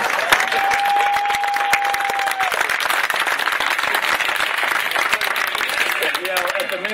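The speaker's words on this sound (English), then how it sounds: "Applaud that man." Steady applause from a crowd at the Minnesota Renaissance Festival, even and continuous throughout, with a long whistle near the start and a few voices calling out amid the clapping.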